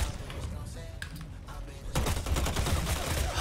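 A shotgun fires in a video game amid the loud din of a gunfight. The blasts grow denser and heavier in the second half.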